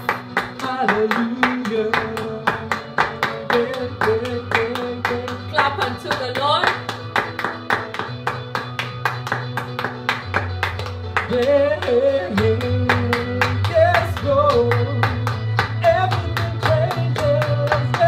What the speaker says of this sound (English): You're welcome to clap alongside with us.